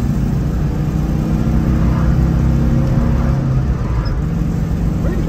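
A 1965 Citroën Ami 6 with an original-spec engine revs while driving, a loud, constant low drone and rumble with slight rises in pitch throughout, no talking.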